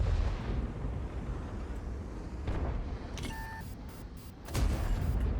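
A tank cannon fires in World of Tanks, with a British tier 10 wheeled medium tank in play: a booming blast near the end over steady engine rumble and game noise, with earlier thuds and a short two-tone beep.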